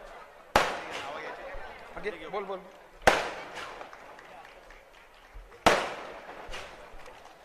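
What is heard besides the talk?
firecrackers bursting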